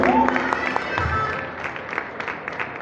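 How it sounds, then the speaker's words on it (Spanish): Audience applause at a live performance by a bagpipe-playing band, broad steady clapping that stays fairly loud across the clip and slowly thins, with a voice calling out briefly near the start. "¡Aplauso!"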